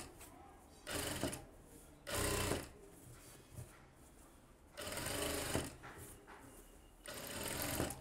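A tailor's sewing machine stitches along the lining edge of a blouse back neck in four short bursts, each loud and close, separated by quieter pauses.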